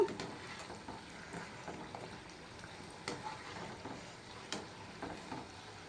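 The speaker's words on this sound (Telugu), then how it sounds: "ఈ బిస్కెట్లు కూడా నూనెలో ఇలా గోల్డ్ కలర్ వచ్చేటట్టు వేయించుకోవాలి" Wheat flour and jaggery tea biscuits deep fry in oil, a soft, steady bubbling sizzle with light stirring clicks and taps, quiet and without talking.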